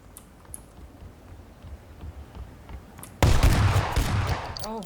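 Sudden burst of rapid automatic gunfire in PUBG erupts after a quiet stretch of faint clicks, loud and close, continuing as a dense rattling volley to the end.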